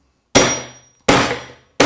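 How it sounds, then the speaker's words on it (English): Hammer striking a cat's paw wedged under a nail in wood, three sharp ringing metallic taps spaced under a second apart, close and loud with short decays and no talk. "I'm going to hammer and get this positioned underneath the nail"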